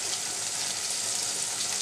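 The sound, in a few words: raw taro stolons (kochur loti) frying in oil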